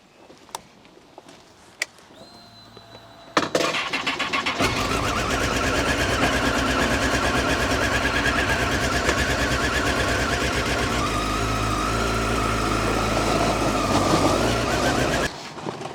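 A motorcycle gets under way after a few clicks and knocks, then rides on with a steady, loud engine and wind roar as heard from a mounted camera, holding constant for about twelve seconds before cutting off abruptly.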